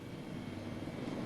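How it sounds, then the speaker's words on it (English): A British Airways airliner after landing in New Zealand in 1977, giving a steady, muffled engine roar and broad rumbling hiss, fairly faint and continuous with no talk. "As soon as it lands, British Airways take over servicing the plane."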